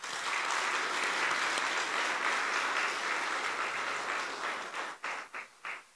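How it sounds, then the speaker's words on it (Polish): Loud, dense applause fills a school hall at a vocational education inauguration for students and their parents, then thins out near the end into a few separate trailing claps. "dla tych uczniów i dla rodziców proszę o gromkie brawa"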